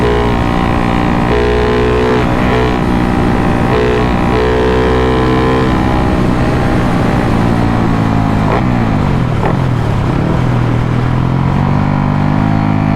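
A Honda Wave motorcycle engine runs hard in fourth gear, a loud, steady, buzzing drone whose pitch rises and dips as revs change, close and continuous throughout.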